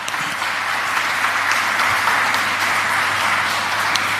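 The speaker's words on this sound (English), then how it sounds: "with a round of applause." Audience applause fills a swearing-in ceremony for new state ministers and a parliamentary secretary, a steady, dense round of clapping that holds at an even level throughout, with no voices over it.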